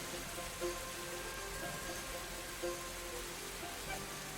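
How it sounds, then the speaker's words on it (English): Steady storm rain hisses as a continuous wash of heavy downpour in a tabletop game session, with a few faint low thumps beneath and no talk. "And there's a sudden storm that buffets you around."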